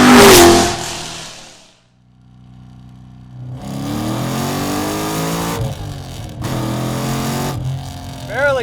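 A 720 hp stroker-engined C6 Corvette Z06 roars hard and close: a loud opening blast, a lull, then sustained full-throttle acceleration with two sharp breaks between revving pulls.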